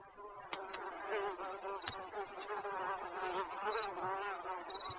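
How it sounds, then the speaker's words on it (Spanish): Mosquitoes buzz in a thin, high drone that swells and fades as they move close by, with a few soft clicks. "un terreno de cría para millones de mosquitos hambrientos que no tardarán en salir de los huevos"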